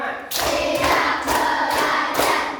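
Children clap together in a rhythmic counting chant, with sharp, evenly spaced group claps falling in a regular beat over a faint murmur of voices.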